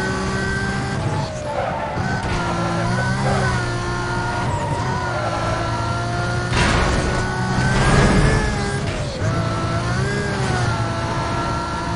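Traffic cars crowd the road in Need for Speed Most Wanted while a Mercedes McLaren races through. A loud engine whines and shifts pitch, tyres squeal, and there are heavier rushing bursts; a voice may be faintly present.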